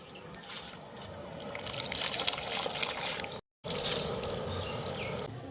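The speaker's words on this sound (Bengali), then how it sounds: "জল ফুটে গিয়েছে, চালটা ধুয়ে নিয়েছে, আমরা এখন চালটা ঢেলে দেবো" Washed rice being poured into a pot of boiling water makes a steady close trickling, splashing wash that breaks off for a moment and then resumes.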